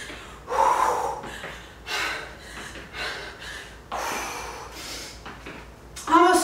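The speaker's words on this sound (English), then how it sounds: "Nice deep breaths." Heavy, deep breathing from someone mid-way through a total-body HIIT dumbbell workout: repeated loud gasping inhales and snorting exhales at an uneven pace, close up, with no speech.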